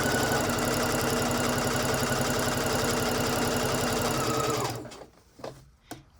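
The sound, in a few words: sewing machine stitching a narrow rolled hem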